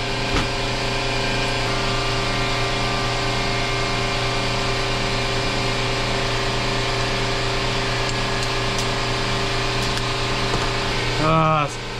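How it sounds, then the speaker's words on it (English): A workshop air compressor runs steadily and loudly at close range for the whole stretch, with a constant droning hum and a brief hiss or clatter near the end, during a Vespa P series rear brake repair. "Damn air compressor."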